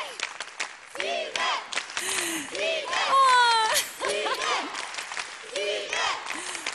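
A concert audience at a Turkish pop show applauds and cheers after a song, a crackling burst of clapping with whistles rising midway, while someone talks over it into a microphone.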